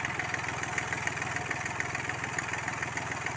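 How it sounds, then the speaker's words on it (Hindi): A Hyundai i10 diesel engine idles with a steady, rapid mechanical clatter and a low throb, heard close up with its air filter open, continuous and fairly loud with no speech. "तो हमारे इंजन की साउंड देखिए आप।"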